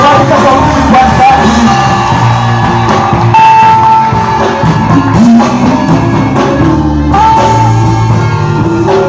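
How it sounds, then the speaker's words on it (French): A crowd at an evangelism campaign cheers, yells and whoops in acclaim, loud and continuous throughout with overlapping shouting voices and no pause. "Acclamons pour la gloire de Dieu"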